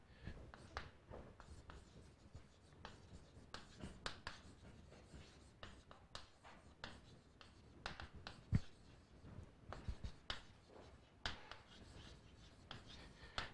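Chalk or marker taps and scratches across a board as a definition is written out during a mathematics lecture, a faint, irregular series of short strokes in a quiet room with no talk.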